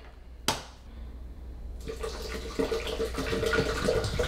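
Water from a bottle poured into a blender jar holding blended coconut, a sharp knock and then a soft splashing trickle that grows into a steady burbling pour close by.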